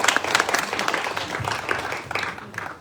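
Audience claps at an annual function as a new person is introduced, a moderate, fairly even round of applause lasting a few seconds.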